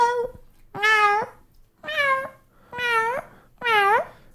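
A man imitates a cat, giving four drawn-out, nasal meows at an even pace, each a clear rising-and-falling call, close and fairly loud with brief silences between.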